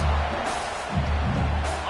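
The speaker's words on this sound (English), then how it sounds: "And you just know the home crowd is loving this." The home crowd at a college football game roars in a continuous, dense wash of cheering and whooping that stays loud and steady throughout.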